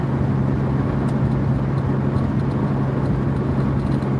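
A car on a long highway drive, with a steady, loud engine and road drone and a constant low hum that holds unchanged throughout, with no voices.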